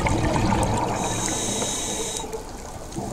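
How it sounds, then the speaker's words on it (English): Underwater surge from an ocean swell on a reef at Sodwana Bay, South Africa: a continuous, full-bodied rushing wash of moving water, steady and close, with no voices. "with this swell you get quite a lot of surge"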